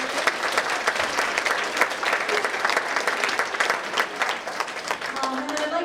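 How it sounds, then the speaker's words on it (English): An audience gives a big round of applause for the panelists at a panel event, with dense, steady clapping from a sizable crowd that holds at full strength for the whole stretch. "So if we can have one more big round of applause for our panelists."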